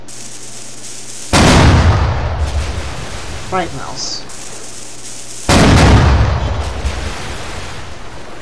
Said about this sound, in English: make sure that the cannons fire